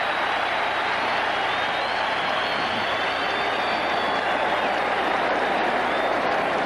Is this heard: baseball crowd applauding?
yes